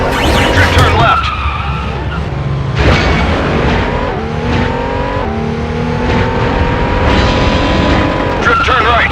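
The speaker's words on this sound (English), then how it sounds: "Drift turn left." A stunt car in Stuntman: Ignition drifts through a left turn, its tires squealing in long sustained skids over a loud, revving engine, with several bursts of screeching across the stretch.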